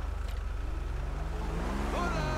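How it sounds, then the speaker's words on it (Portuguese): A Vapid Guardian diesel truck engine idles with a steady low, pulsing rumble in GTA 5, close and continuous, with a faint rising tone near the end. "Então, o som do carro diesel."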